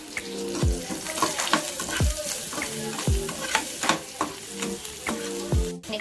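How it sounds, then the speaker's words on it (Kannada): Onions with turmeric frying in a pan for a village-style liver biryani, a steady sizzle broken by regular scraping stirs about once a second, close and fairly quiet. "ಇಲ್ಲಿ ಇವಾಗ ಆನಿಯನ್ ಫ್ರೈ ಮಾಡಬೇಕು ಚೆನ್ನಾಗಿ"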